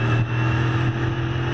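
A 1966 McLaren M1B Can-Am race car engine at Goodwood Revival, a loud, throaty, steady drone with strong low rumble, close by, with no talk.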